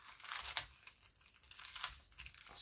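A washi tape package printed with little ghosts crinkles softly as it is handled and opened, a quiet close series of irregular plastic rustles and crackles with no talking.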